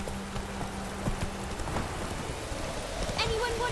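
Roach the horse runs through rain in the video game The Witcher 3, with a steady patter of rain and soft hoofbeats. Someone talks intermittently over the sound.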